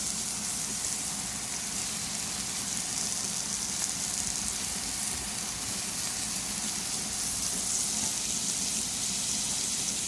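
Onions frying on a griddle for Philly cheesesteaks, alongside steak, give off a steady, dense sizzle that stays close and fairly loud for the whole stretch, with no voices.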